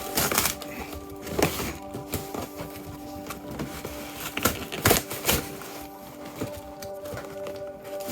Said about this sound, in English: I'll just rip the box.